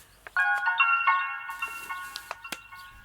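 A mobile phone ringtone plays a bright electronic melody nearby, repeating a short tuneful phrase, with a few soft clicks and rustles around it.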